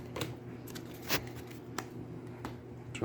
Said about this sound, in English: It does allow me to shuffle Kadir's card back in, though.